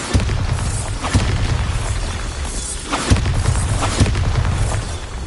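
Bombarda blasting spell explosions in Hogwarts Legacy, dense rumbling booms with several sharp impacts over continuous crackling debris, loud and close.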